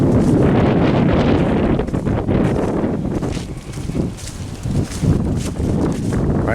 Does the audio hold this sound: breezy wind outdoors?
yes